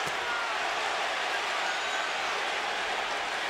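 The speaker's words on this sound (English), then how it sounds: "Crowd begins to chant" Boxing arena crowd at the Arturo Gatti versus Micky Ward third fight, a dense, steady roar of many voices chanting Gatti's name, loud and continuous with no pauses or single voice standing out.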